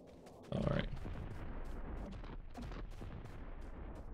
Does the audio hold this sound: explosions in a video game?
yes